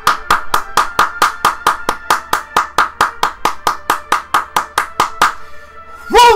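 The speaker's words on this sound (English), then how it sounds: "Applause for that." A single pair of hands claps in applause, about twenty sharp, evenly spaced claps at a brisk steady rhythm, close and loud, before stopping abruptly.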